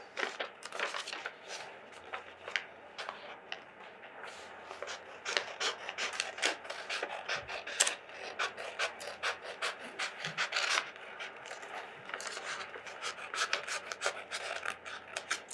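Scissors cut through a folded, creased sheet of paper, close up, with a long run of quick rasping snips and rubbing paper noises at a steady pace, faint and with no talking.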